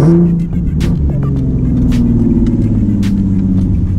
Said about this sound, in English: And we downshift. And you guessed it, we downshift.